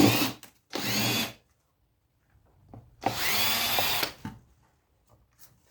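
A power drill pulls screws from old electrical scrap in two loud whirring bursts, each about a second long, with quiet handling noises between them.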